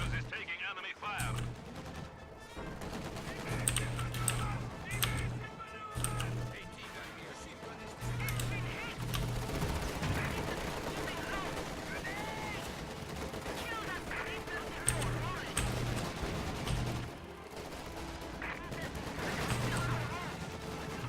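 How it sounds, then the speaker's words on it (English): Gunfire in a Company of Heroes 2 battle on the Don River map, with repeated bursts and scattered shots under a steady din of combat, and someone talking over it. "Our headquarters is taking enemy fire."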